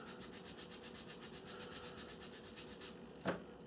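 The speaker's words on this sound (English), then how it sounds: "using the long flat edge of my sanding stick" Sanding stick worked back and forth along the leading edge of a model aircraft wing, a quiet, steady rhythmic rasp of about six strokes per second, close up, ending with a brief sharper scrape.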